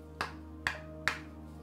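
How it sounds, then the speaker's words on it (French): Oracle cards set down during a reading: three crisp, sharp taps spaced evenly about half a second apart, close and clear over a quiet background with no talking. "On tire 3 cartes."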